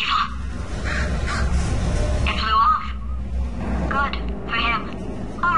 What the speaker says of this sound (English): GLaDOS is afraid of birds.